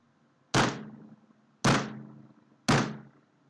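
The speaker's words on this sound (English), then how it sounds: "This is me banging my head on the goddamn desk." A head bangs against a desk three times, each a loud, close thunk spaced about a second apart with a brief ringing decay and quiet between hits.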